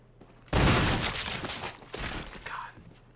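A shotgun blasts once in the Resident Evil video game on hard mode, a loud sudden boom with a long rumbling tail that fades over a couple of seconds.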